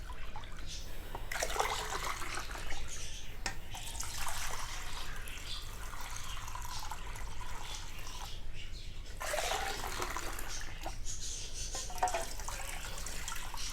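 Water sloshes and swirls in a container in repeated bursts as oral rehydration salts are mixed in, close by, with soft liquid churning and no voices.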